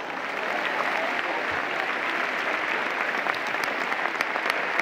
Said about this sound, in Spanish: Un fort aplaudiment per a Ricardo Arias